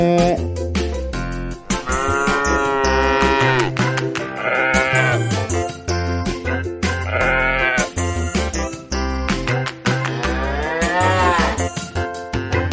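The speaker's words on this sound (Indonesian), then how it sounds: "Suara sapi moh moh moh, moh moh moh, moh moh moh. Suara kambing be be be, be be be." A children's song with mooing cow and bleating goat calls over bouncy, rhythmic backing music, the calls repeating in short groups through a loud, busy mix.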